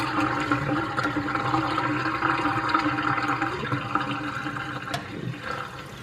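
Water drains from a sink after the plug is pulled, with wool soaking in conditioner water: a steady rushing gurgle with no talking.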